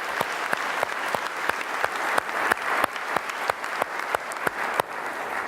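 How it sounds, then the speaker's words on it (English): An audience at a policy conference applauds, a dense, sustained patter of many hands clapping with a few louder individual claps standing out, steady and fairly close throughout. "So let's give them a big round of applause."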